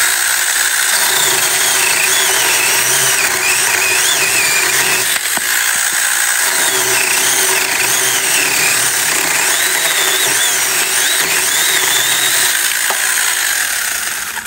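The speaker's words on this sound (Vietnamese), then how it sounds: "anh em thấy cái hiệu quả của cái cưa xích này ha, rất là gọn gàng mà rất là khỏe nha" A chainsaw runs loud and continuous as it cuts through wood, the engine note wavering slightly under load throughout.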